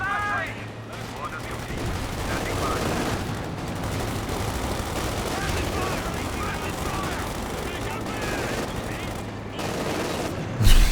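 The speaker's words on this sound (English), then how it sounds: "Making use of the machine gun on the Panzer over there." Dense, continuous machine-gun fire from a Panzer tank in the strategy game Company of Heroes 2, with rattling bursts amid battle noise and a commentator talking over it.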